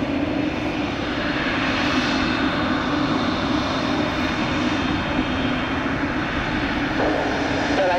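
Airplane taxiing at Tampa airport, a steady, continuous engine drone and hum heard from a moderate distance, unchanging in loudness throughout.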